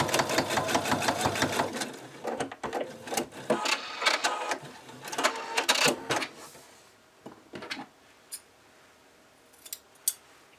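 A sewing machine stitches a dart in the head of a cockatiel plushie, rapid close mechanical whirring in bursts that gives way to scattered clicks and taps as the sewing stops.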